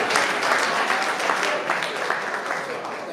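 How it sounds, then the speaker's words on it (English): A crowd applauds steadily, dense clapping filling a large room, sustained and fairly loud throughout. "I think I deserve a round of applause."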